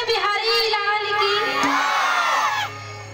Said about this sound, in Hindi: जोर से लगाओ जयकारा